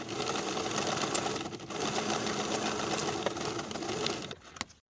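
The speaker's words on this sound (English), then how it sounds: "Sew this seam at 3/8 inch and press the seam open." Sewing machine stitching a sleeve seam at 3/8 inch, a steady close whirring drone with a brief pause near the middle, then slowing and stopping near the end.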